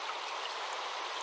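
A forest stream flows in a soft, even hiss of moving water, quiet and close, with no voices.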